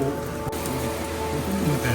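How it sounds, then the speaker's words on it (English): Heavy rain pours steadily outside a Sprinter van during a storm, a dense, continuous hiss of drops drumming on surfaces, close and loud throughout with no speech. "Raining like a banshee out here."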